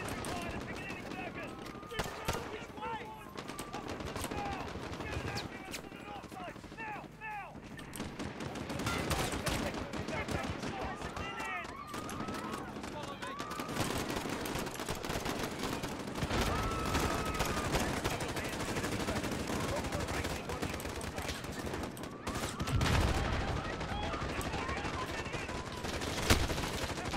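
Sustained gunfire in Call of Duty: Modern Warfare, dense rapid bursts and scattered single shots crackling almost nonstop, with voices and chirpy game sounds layered underneath.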